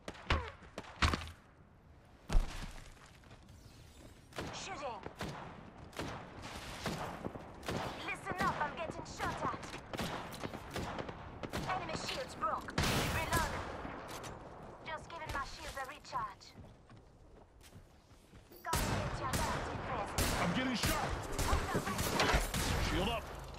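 Gunfire in the video game Apex Legends, rapid bursts of sharp close shots in dense clusters with loud stretches and brief lulls, mixed with impact crashes and game effects over about twenty seconds.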